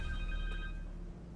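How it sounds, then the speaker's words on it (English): A cell phone rings in Marvel's Spider-Man 2 on PS5, with a short, steady, tonal electronic ring heard close and alone. "Phone."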